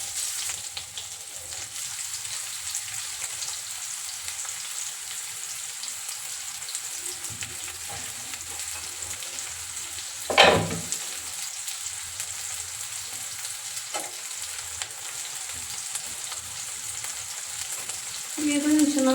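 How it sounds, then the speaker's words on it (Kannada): Finely chopped onions fry in a pan for a potato vegetable curry, giving a steady close sizzle with one sharper burst of crackle midway and a slight swell at the end. "ಇದನ್ನು ಚೆನ್ನಾಗಿ ಫ್ರೈ ಮಾಡ್ಕೊಳ್ಳಿ."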